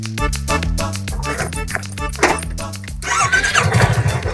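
A motorcycle engine starts and settles into a steady, throbbing idle, loud and close, with the revs picking up and turning rougher near the end.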